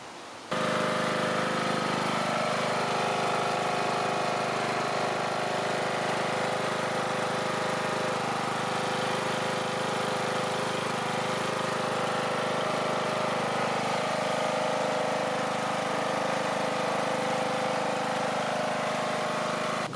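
A small engine fitted with 3D-printed TPU carburetor, fuel tank and valve cover gaskets runs steadily and loudly close by, a continuous droning idle with no talk over it.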